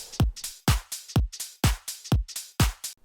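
Remix drop drums play alone in a tight loop: punchy kicks with deep low thumps, bright claps, and crisp hi-hats filling the gaps in a steady danceable rhythm.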